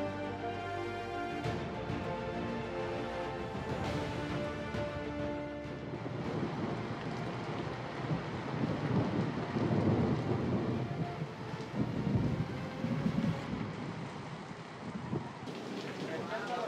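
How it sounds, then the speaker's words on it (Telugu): Steady rain with rumbles of thunder, a continuous broad wash that swells louder in the middle and stays constant throughout, with faint voices and other noises mixed beneath. "ఏ పండగ చేసినా ఈ వర్షం మన ఇంట్లో కామన్ ఉంటుంది"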